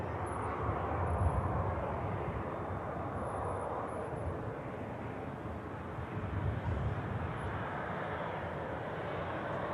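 An Emirates airliner crosses over an airport, producing a broad, steady jet roar that stays loud and even from start to finish, with a slight swell near the beginning.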